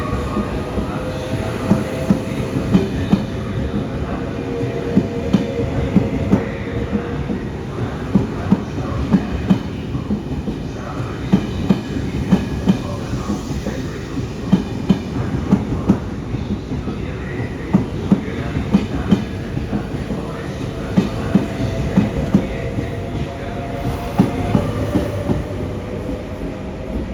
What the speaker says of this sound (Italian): Il treno regionale, proveniente da Belluno e diretto a Venezia Santa Lucia, delle ore 8:06, è in arrivo al binario 3.